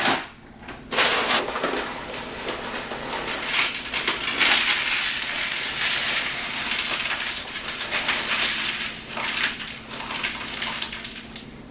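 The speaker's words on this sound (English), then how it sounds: "So I filled up about a third of my bucket with ice and then did a layer of rock salt." Ice poured into an ice cream maker bucket, a steady crunchy clatter of cubes tumbling and settling for about ten seconds, close and fairly loud with no talk.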